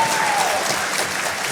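Audience at a public debate breaks into brief, dense applause, a short burst of many hands clapping under faint room noise.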